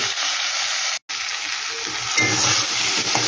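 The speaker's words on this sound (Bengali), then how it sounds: "কাশ্মীরি লঙ্কার গুঁড়ো দিয়ে দিচ্ছি একটু লাল হওয়ার জন্য কালারটা যেন সুন্দর আসে তাই ভেজে নিই আমি" Kashmiri chilli powder frying in oil in a pan for a fish curry, a loud, close, continuous sizzle with stirring and a brief cut near the start.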